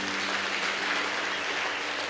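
A church congregation claps after a sermon, producing a dense, even burst of applause that fills the short clip at a steady level with no clear voices.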